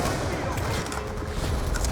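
Auto turrets fire in the Black Ops 2 campaign, a dense, continuous rattle of gunfire with a voice present over the noise.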